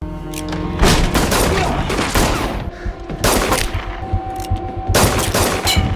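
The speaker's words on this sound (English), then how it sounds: "Gunfire erupted." Gunfire erupts in a dramatized Harlem gangster shootout outside a door, with several loud, overlapping bursts of shots and booming impacts in clusters spread across the moment, set against a dense background bed of sound.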